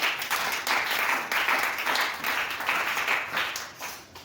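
Church congregation clapping and cheering in steady waves, a dense, sustained ovation that swells and dips across the whole stretch with no voice rising above it.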